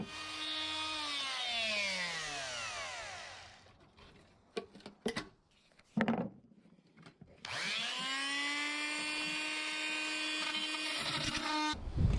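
A power tool whines at close range as it cuts through the bonds on a Farrier F25C trimaran, its pitch sliding down and back up. Two long cutting runs are split by a pause of knocks and handling clatter.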